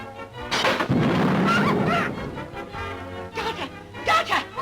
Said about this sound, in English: I've been struck with a fork of sheet lightning.